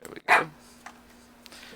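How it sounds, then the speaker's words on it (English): A dog gives one sharp bark close to the start, followed by faint softer noises, with someone talking briefly over it. "Sorry about the dog in the back."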